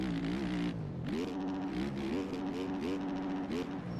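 A 450 dirt bike engine in the motocross game MX Bikes revs hard and buzzes close by, its pitch climbing and dropping in repeated quick surges as the rider shifts and throttles.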